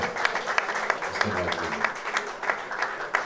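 An audience claps loudly at an album release event, a dense, continuous applause with crisp individual hand claps spiking throughout, while a voice talks briefly underneath.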